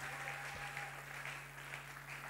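A church congregation applauding and cheering at a Friday service, a steady broad wash of clapping that fills the whole stretch, with a low electrical hum running beneath.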